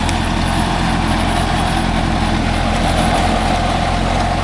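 A Mahindra Arjun Novo 605 DI tractor drives close by, its diesel engine a loud, steady, unbroken rumble with no pauses or voices.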